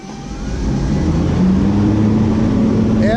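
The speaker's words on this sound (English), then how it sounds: "you're gonna hear how loud the fans are" Large dyno cooling fans spin up beside a 2002 Mustang GT with bolt-on modifications, a loud rushing roar that builds over the first half second and holds steady, with a faint rising whine.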